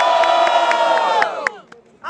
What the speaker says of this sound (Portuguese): Diferentemente, barulhos pra quem gostou das rimas da Vicky V!